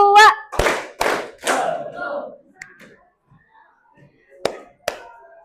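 In a school counselling-class game, a voice calls out before a group claps in quick unison strokes with a trailing cheer; after a pause, two crisp claps land close together.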